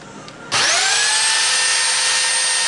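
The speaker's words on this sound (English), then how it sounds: "I've got the belt sander locked in the vise. We're going to turn it on." A belt sander clamped in a vise starts up on fiberglass, a short click then an abrupt loud whining roar with a steady high tone that holds on continuously and close.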